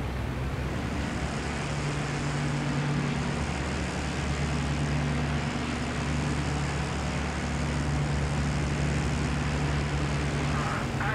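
Steady, loud droning of a Junkers Ju 88 C-6 heavy fighter's twin engines in the IL-2 Great Battles flight sim, an unbroken throbbing hum that holds throughout, with a voice talking over it.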